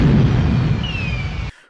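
Explosion scene from the horror-comedy film Frankenhooker: a loud, sustained rumbling blast with heavy low-end roar lasting over a second, then cutting off abruptly into near silence.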